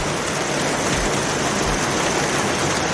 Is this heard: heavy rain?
yes